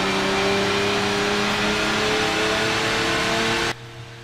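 An LMP1 race car in a racing video game at Mugello, its engine a loud, sustained high-revving drone with steady harmonic whine for several seconds before cutting abruptly to a quieter hum near the end.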